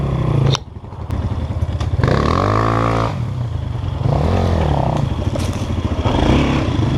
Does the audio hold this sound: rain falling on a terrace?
no